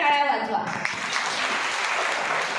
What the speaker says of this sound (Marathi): सर्व महिलांनी स्वतःसाठी खूप जोरदार टाळ्या वाजवा